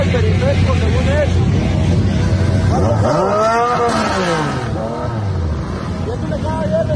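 A large group of motorcycles rev and roar together on a city avenue, a loud and continuous engine din with rising and falling pitch sweeps as bikes accelerate past.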